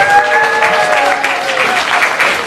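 Applause from the crowd at an African American male leadership symposium at Contra Costa College, loud and continuous throughout, with a few voices cheering and calling out over the clapping.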